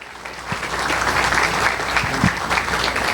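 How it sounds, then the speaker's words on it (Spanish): Seated attendees at an academic talk give a welcoming round of applause, with moderate, even clapping throughout and a few louder thumps near the microphone. "Démosle un fuerte aplauso y bienvenida al doctor"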